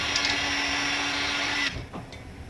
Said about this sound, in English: I'm going to take a moment and hit mine with the blow dryer